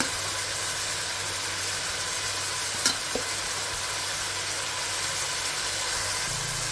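Tomato, ginger-garlic paste and mint leaves frying in a pan for pilau rice, giving a steady, even sizzle with a couple of brief scrapes of the spoon, close by and without speech.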